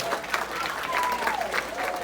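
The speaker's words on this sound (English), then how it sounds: "can we give them a huge round of applause?" A school career-day audience at a Broward College dual-enrollment event keeps up steady, continuous applause at moderate volume, with crowd noise mixed into the clapping.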